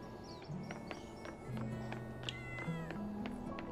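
Several cat meows from the video game Coral Island, short rising calls repeating over about four seconds at moderate loudness, with a steady low harmonic drone underneath.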